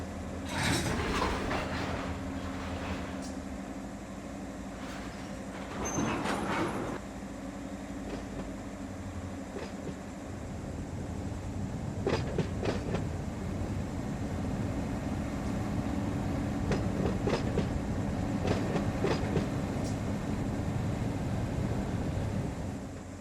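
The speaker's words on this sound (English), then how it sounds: "So now I can recouple to the rest of our train" A freight train in a Run 8 Train Simulator game on a California branch line rolls and recouples cars, a steady low rumble with scattered clanks and couplers banging throughout, fairly faint and with no talk.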